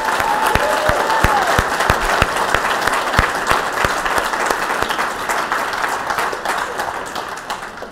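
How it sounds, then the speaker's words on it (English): Audience at a panel event bursts into a sustained round of applause, dense clapping from a sizable crowd that holds steady before slowly easing off. "Can I get everybody to join me in another round of applause,"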